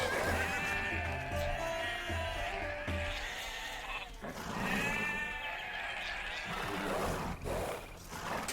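Cow lowing from the Age of Empires 2 video game, drawn-out moaning calls repeated over game background sound and faint talk.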